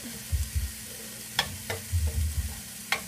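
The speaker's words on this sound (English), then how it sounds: "till all of the veggies are sauteed" Vegetables and spinach sautéing in a pan, with a soft sizzle under several scraping stirs of a utensil and a few sharp clinks against the pan, close and without talk.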